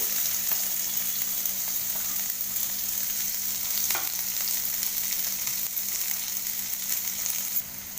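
Cumin seeds and chopped onion frying in oil in a wok, a steady close sizzle with faint stirring scrapes throughout, no talk.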